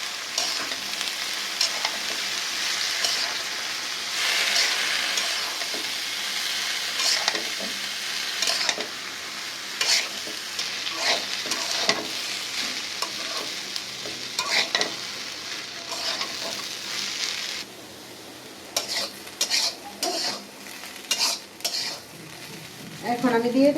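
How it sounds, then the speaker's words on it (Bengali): Chopped onion and green chillies fry in a pan, a constant sizzle under repeated scraping and clanking stirring strokes with a spatula that come in bursts near the end. "এখন দিয়ে দিব পেঁয়াজ কুচি। এখানে দিয়ে দিব কাঁচামরিচ কুচি। এখন আমি এগুলি ভালো মতন ভেজে নেব।"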